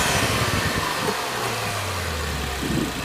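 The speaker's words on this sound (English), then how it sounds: "You guys can hear that turbo spewing up." A 2019 Audi RS5 coupé's turbocharged engine revs close by, rising and then dropping back in a brief low growl under steady broadband noise.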